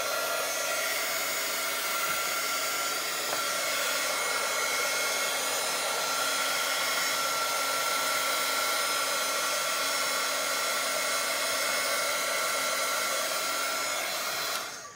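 Hair dryer blowing over a wet watercolor painting, a steady loud whirring rush held close for the full length, cutting off at the very end.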